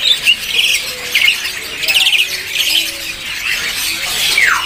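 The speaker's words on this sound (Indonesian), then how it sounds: "Oke kita bisa lihat untuk penampakannya burung gacor ya teman-teman" A caged songbird at a bird market chirps and squawks in loud, bright bursts, close by and repeating throughout, with faint market bustle underneath.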